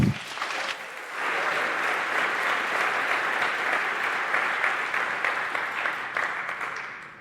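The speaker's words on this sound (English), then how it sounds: "a big applause for Karsten Knoll" Sustained audience applause at a security hacking conference on 5G OpenRAN, a dense steady wash of clapping from a large hall that swells after a brief opening and holds loud and even throughout.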